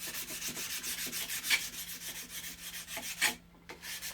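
180-grit sandpaper rubbed over the metal plate of an H. Disston & Sons backsaw, fast steady back-and-forth scratching strokes, close and fairly quiet, pausing briefly near the end.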